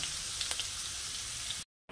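Potatoes fry in oil in a pan with a steady, bright sizzle and a few small pops, close by, until the sound drops out abruptly near the end and returns briefly.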